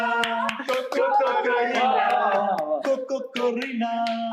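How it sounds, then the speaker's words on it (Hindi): People on a reality dating show clap for themselves, with sharp scattered claps breaking through loud singing and chatting voices that dominate throughout. "सब अपने लिए तालियां बजा रहे हैं"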